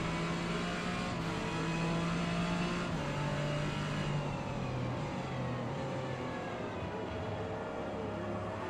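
Noisy mid-rear-engined race car in Gran Turismo 7, a steady loud engine drone with shifting pitch that runs continuously without pause.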